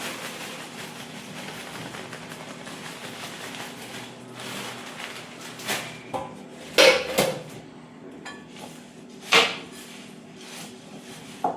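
Dry farsan added to bhel in a bowl and stirred with a spoon, making scattered clinks and scraping rustles, with a few sharp metallic taps standing out near the end.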